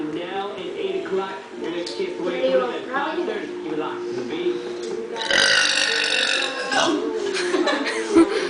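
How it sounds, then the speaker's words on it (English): A girl lets out a series of deep, drawn-out burps in a burping contest, loud and close, with people talking and chuckling around them. "Well, they're not that big of a burp."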